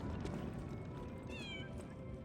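A cat meows in the video game Lies of P, a drawn-out, wavering mewl heard over a steady, dense game ambience.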